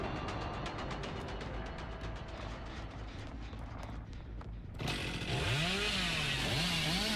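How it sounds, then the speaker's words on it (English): Chainsaw in the Dead by Daylight video game revving in bursts, a rattling motor sound rising into a steady, loud high-pitched whine that holds through the second half, over a busy game soundscape. "I can't even rev up the chainsaw enough to take a run at her"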